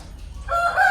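A rooster begins crowing near a pig pen on a farm, a short loud call rising in after a moment of quiet rustling, close by and alone.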